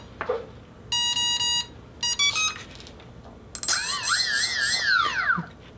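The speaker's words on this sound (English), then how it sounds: "Now you can hear that beeping. This is a wireless telemetry link." A model airplane's wireless telemetry link sounds a series of electronic beeps and tone bursts, followed by a longer warbling, sweeping tone, near and clear against quiet background noise.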